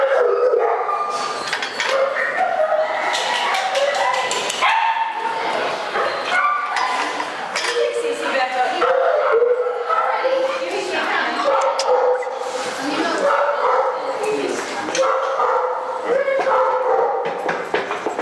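Several dogs barking, yipping and whimpering close by, an excited, continuous chorus of overlapping barks with occasional howls throughout.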